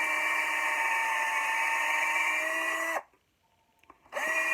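A power drill bores holes into an axe handle, a steady high whine running for about three seconds before cutting out, then briefly restarting near the end.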